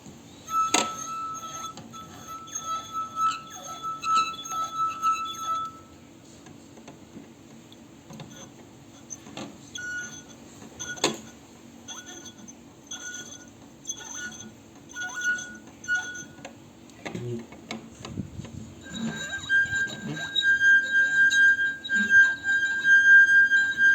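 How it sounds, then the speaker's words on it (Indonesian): Water-filled drinking glasses rubbed around their rims sing out steady, sustained ringing tones that shift in pitch as different glasses take over, with faint clinks and handling noise around them. "putarlah keliling bibir gelas"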